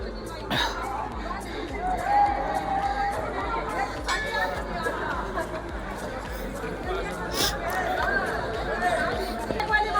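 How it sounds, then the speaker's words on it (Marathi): Busy crowd babble at Kedareshwar temple on Harishchandragad, a steady weekend throng of many overlapping voices with occasional louder nearby calls, continuous throughout. "बघू शकता बेकार गर्दी आहे एकदम."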